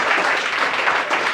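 An audience claps loudly for a teacher at a gathering in Bihar, a dense, close burst of applause that swells and ebbs slightly across the moment, with no speech over it.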